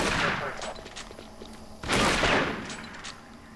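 Heavy shotgun blasts in Doom 3 BFG Edition, fired at imps: two loud, booming shots about two seconds apart, each with a rumbling tail that fades before the next.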